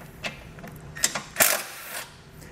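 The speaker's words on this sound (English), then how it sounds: "There are 3 bolts here that we're going to be removing with a 13mm socket" A socket wrench with a 13mm socket ratchets while removing bolts for a Roadmaster Direct-Connect base plate kit on a 2020 Buick, giving several short clicking bursts close by, with no talk.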